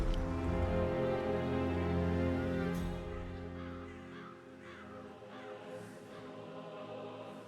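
Crows cawing in the Hitman 3 video game, loud overlapping caws at first that thin out and fade into quieter calls against a low steady background hum.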